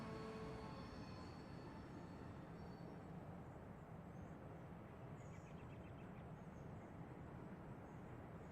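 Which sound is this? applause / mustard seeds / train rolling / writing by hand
train rolling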